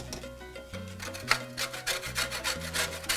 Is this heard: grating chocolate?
yes